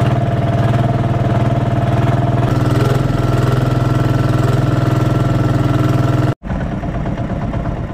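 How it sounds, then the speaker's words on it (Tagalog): A boat engine drones steadily and loudly with a low rumbling hum, cutting out briefly near the end before resuming. "umandar na yung bangka natin"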